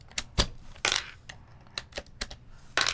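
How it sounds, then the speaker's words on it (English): Keycaps being pulled one by one off a keyboard with a keycap puller, several sharp plastic clicks and clacks at irregular intervals, close and fairly clear, with no talking. "we could also pull off all the keycaps and then just compare them"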